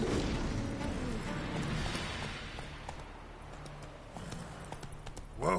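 Roach the horse gallops in a Witcher video game, hooves pounding in a fast rhythm that is loud at first and gradually eases, amid booming game ambience with a short vocal sound at the end.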